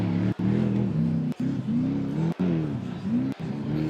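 Off-road race vehicle at the Mint 400 under throttle, the engine revving loudly with rising and falling pitch sweeps, broken by brief sharp cuts between shifts or lifts, close and continuous over about four seconds.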